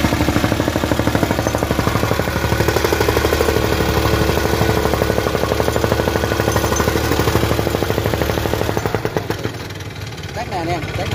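A Mikasa MT55 rammer compactor with a Robin EH09-2 engine runs close by, its engine pounding in a fast, steady rhythm that eases slightly near the end while someone talks over it.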